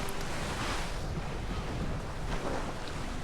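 Sea waves wash and surge against the promenade at Seaburn on the Sunderland coast, a continuous roaring rush with gusts of wind buffeting the microphone, no voices.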